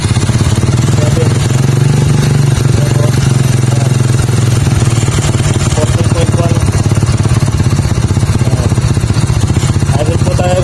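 Sym Bonus motorcycle with a battery and charging fault, its small engine running loud and close in a rapid clattering idle that holds steady the whole time, with someone talking over it.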